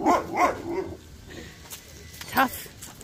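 A dog at Portage Lake Campground in Michigan gives a few barks and yips, moderately close, with bursts at the start and one more near the end.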